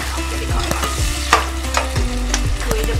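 Chopped onions sizzle steadily in a hot pan for biryani masala, with scraping stir strokes and clinks of a spoon over the constant frying hiss.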